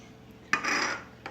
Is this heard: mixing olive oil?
yes